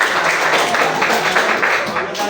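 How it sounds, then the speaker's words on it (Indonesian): Applause from a class after a group presentation in a school exam, close and loud clapping in a dense steady patter, with voices mixed in. "Tepuk tangan."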